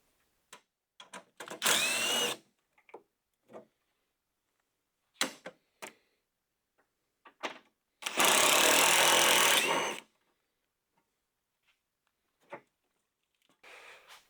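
A power tool backs out a 10mm bolt on a 1999-2009 Chevy Silverado GMT-800 passenger fender, two loud bursts of whirring separated by short clicks and handling noises, plus a brief final spin.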